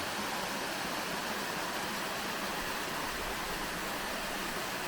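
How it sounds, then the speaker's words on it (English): Midway Falls on the Fall Creek Falls Trail, swollen after several days of heavy rain, gives a steady, full rushing roar that holds constant throughout with no voices. "But this is Midway Falls."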